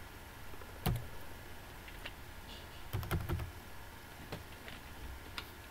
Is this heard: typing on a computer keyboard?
yes